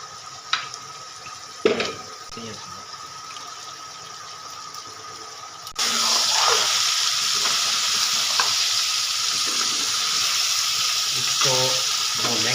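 Beef trotters (paya) being stir-fried with ginger and garlic in a pot, a quieter start with clanks of a spoon, then a loud steady sizzle with stirring scrapes throughout.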